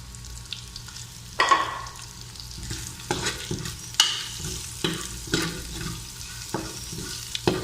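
Onions fry in a pan for chicken liver adobo, a low steady sizzle broken by repeated spatula scrapes and knocks at irregular intervals, close and moderately loud.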